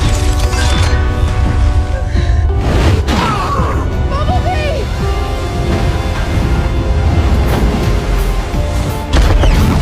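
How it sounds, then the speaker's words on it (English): A movie explosion and crash from the film Bumblebee, as a giant robot is struck by a surging ship and destroyed, rumbles loud and dense with booming impacts and debris throughout, layered with dramatic score. "The devastating impact and explosion wiped Shatter out completely."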